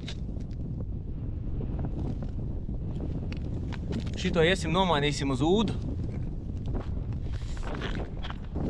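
Strong wind buffeting a microphone at Lake Peipus, a steady low rumble throughout with someone speaking briefly over it midway.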